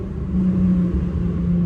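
An Infiniti Q50 3.7 with a Speed Culture catback exhaust revs on a road, a loud, close, sustained engine drone holding a steady pitch through the brief burst.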